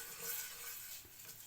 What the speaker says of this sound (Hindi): हल्का सा सौते करूँगी रेड चिली फ्लेक्स को।